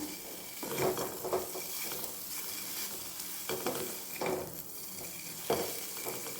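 Meal maker (soy chunks) frying in a pan over a low flame, a steady soft sizzle broken by repeated scraping stirs with a spoon, close by and alone.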